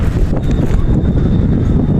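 Wind by the sea at SRP near the CCLEX bridge in Cebu buffets the microphone in a loud, continuous low rumble with gusty fluctuations, and no one speaks.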